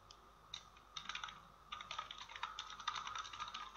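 Keys clatter in quick irregular bursts as someone types on a computer keyboard, entering names into point-of-sale software; close and fairly quiet, with short pauses between runs.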